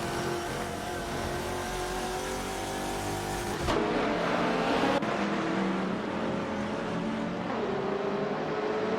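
GTR race cars lapping Mugello circuit in a racing video game, engines droning steadily with shifting revs, one car's pitch dropping as it passes around the four-second mark, loud and continuous.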